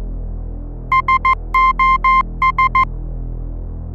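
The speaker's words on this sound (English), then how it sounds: "The crew of a ship named the Silver Star received the following message in Morse code." A Morse code SOS distress signal beeps out as a clean electronic tone: three short pips, three long tones, then three short pips, loud and alone over a low steady hum.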